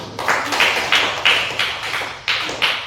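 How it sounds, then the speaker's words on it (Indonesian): Classroom applause for a student group: loud, close claps fall in a steady, evenly spaced rhythm, about three per second, with a brief pause near the end before they resume. "tepuk tangan untuk kelompok 1"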